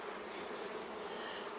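Stingless bees buzzing around a nuc hive during a first inspection, a dense, continuous close-up hum of many wings, steady and unbroken, with no talking.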